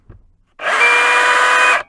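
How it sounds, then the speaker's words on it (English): A DeWalt DCH273 cordless rotary hammer, freshly repaired after a destroyed piston housing, runs in drill-only mode on a full battery, whining steadily and loudly for about a second after a brief soft knock, with no talking. "Okay, so that's for the drill."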